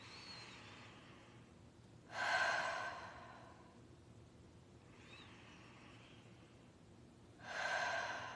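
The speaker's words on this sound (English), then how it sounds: "Nice deep breath in through the nose, out through the mouth." Deep breathing, in through the nose and out through the mouth, during a guided morning breathing exercise: two long, soft exhalations a few seconds apart, close and alone in a quiet room.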